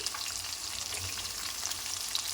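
Onions frying in a pan until brown for a country chicken curry, an even, continuous close sizzle with no pauses and no voices.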